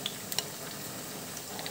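Battered onion rings fry on a brand-new gas stove, giving a steady, fairly quiet sizzle and crackle of hot oil with a few sharper pops near the start.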